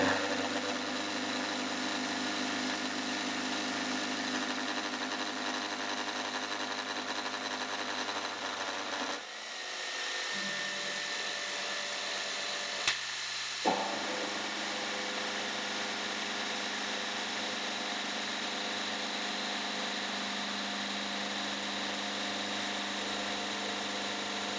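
A home-converted CNC milling machine drives a 50mm face mill across 1 inch cold rolled steel stock, a steady droning whine and hum throughout, with a brief dip and shift in pitch midway before the cut continues.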